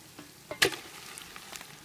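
Meat and onions frying for goulash in a pot over a campfire while wild camping, a faint steady sizzle with a brief louder clatter of stirring, heard close and quiet.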